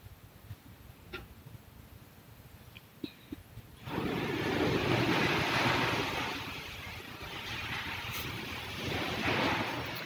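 Sea surf and wind roar, heard from a slow train crossing a bridge over the sea; the broad, steady rush starts abruptly partway through after a quieter stretch, with no talking.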